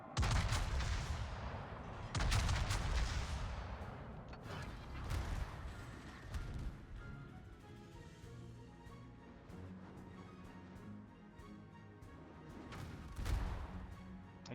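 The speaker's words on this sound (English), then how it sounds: "You can stop shooting at me now." Naval guns fire in the World of Warships video game: heavy booming shots and crashing impacts at the start and again near the end, with a rumbling, mechanical game soundscape between them and no talk.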